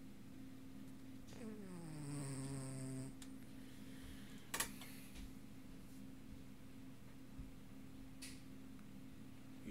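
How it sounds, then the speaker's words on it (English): A sleeping dog lets out one faint, drawn-out snore in a quiet room, followed by a soft click and near silence. "Yep, my dog snores."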